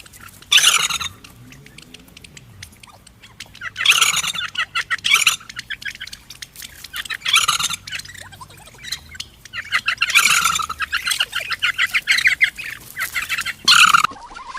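Bursts of clucking and gobbling from domestic turkeys come in groups across the clip, loud and close, with quieter scratchy movement and faint chirps between them, outdoors while grazing.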